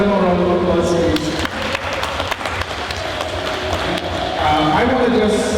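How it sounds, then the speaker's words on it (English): Panel audience applauding, a burst of clapping at moderate distance that swells and fades, with speech over parts of it. "Give them a round of applause, please."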